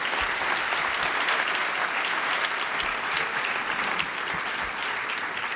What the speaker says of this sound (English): So a round of applause for everybody here